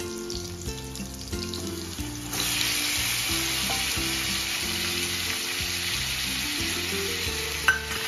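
Chicken pieces sizzle loudly in hot oil with chopped onion in a kadhai, the frying rising sharply after a couple of seconds and holding steady with a rhythmic stirring pattern underneath.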